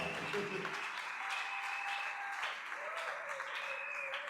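Church congregation applauding its cantors, a steady broadband wash of clapping that fills the space, with voices faintly present underneath.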